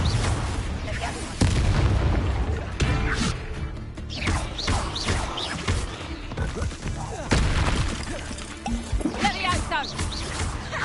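Repeated Confringo blast spells explode during a boss battle in Hogwarts Legacy, with booming bursts landing in irregular succession over a dense, continuous wash of combat noise and background voices.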